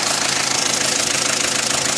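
Mitsubishi L300 engine idling with a steady knocking, a dense continuous mechanical clatter heard close and loud throughout.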